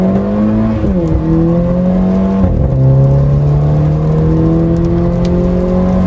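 Mercedes-Benz A-Class A250 accelerating hard on paddle shifters, loud engine drone climbing through the revs with quick upshifts that drop the pitch twice, heard close from the cabin with no talking.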